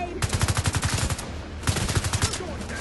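Rapid automatic gunfire from The Division 2 during a firefight at the SHD Autumn Hotel, two loud bursts of quick repeating shots separated by a short pause, with a faint voice in the background.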